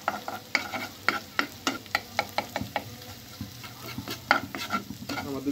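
Egg scrambling in a hot pan for prawn fried noodles, with a quiet sizzle behind regular scraping strokes of a spatula, about two each second, close by.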